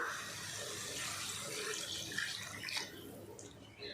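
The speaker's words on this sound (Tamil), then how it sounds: "இப்போ இதில் மட்டன் வேகிறதுக்கு தேவையான அளவுக்கு தண்ணி சேர்த்துடலாம்" Water poured into a pan of sautéed onion, garlic and mutton masala for a Tamil-style mutton gravy, a steady splashing stream running for a few seconds close by, with no talking.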